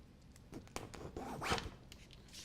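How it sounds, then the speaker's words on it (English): Charcoal scratching and gouging into wet paint on a canvas, a few short rasping strokes building to one stronger drag near the middle, close and fairly soft. "when drawing into wet paint, you lose your mark quickly, but you begin to gouge into the surface"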